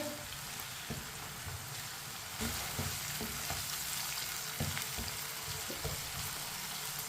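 Chopped tomatoes and green chillies fry steadily in a pan, a dense continuous sizzle with soft scrapes and knocks as a spoon stirs them, close and without talk.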